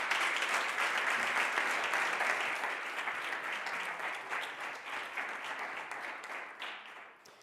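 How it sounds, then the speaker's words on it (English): An audience at an AI accelerator demo day applauds after a startup team's presentation, a sustained, fairly distant round of many hands clapping that slowly tapers off. "Applause."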